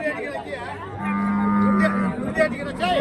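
Cattle moo at a livestock market in Karimangalam, Dharmapuri, with one sustained low moo in the middle and crowd chatter throughout the background.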